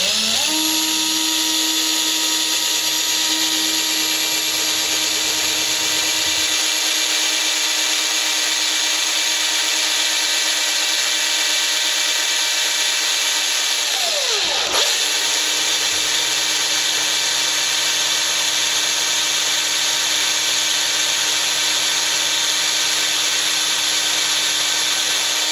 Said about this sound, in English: There's a hole that we drilled earlier, so let's do a second one.